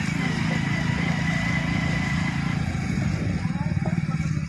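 A motorcycle ridden slowly by a training student, its engine chugging at low revs in a steady, close drone with slight throttle swells near the end.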